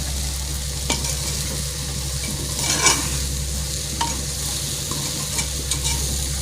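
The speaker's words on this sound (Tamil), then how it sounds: "ஒரு 2 நிமிஷம் வதக்கிட்டு எடுத்துட வேண்டியது தான்." Vegetables sautéing in a pan sizzle steadily up close while a spoon stirs and scrapes through them in a few distinct strokes, over a low steady hum, with no speech.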